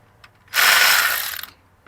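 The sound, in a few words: ratchet wrench removing Toyota Corolla alternator bracket bolt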